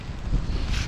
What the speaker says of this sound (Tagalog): Grabe, sobrang lakas ng hangin ngayon dito sa amin mga ka-adventure.